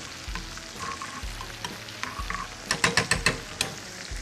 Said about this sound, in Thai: กุ้งก็ทอดให้กรอบครับ ตอนนี้ไฟเริ่มแรงแล้ว